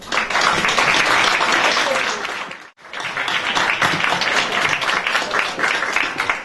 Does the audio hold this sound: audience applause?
yes